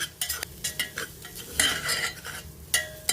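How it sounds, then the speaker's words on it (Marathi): A spoon scrapes and clinks repeatedly against a pan as ground masala paste is stir-fried, with brief soft sizzles between the irregular, close stirring strokes. "आणि आता वाटण पण छान परतून घेऊया"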